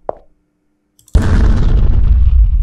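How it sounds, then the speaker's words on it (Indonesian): A single loud blast goes off as a ghost is shot in a horror website game, followed by a sustained rumbling roar. A faint pop comes first, then near-silence. "Ternyata bisa diklik untuk menembak hantunya."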